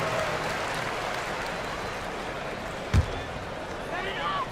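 Crowd noise fills an arena in a basketball video game, a steady wash of cheering with a sharp thump near the middle and rising excitement toward the end.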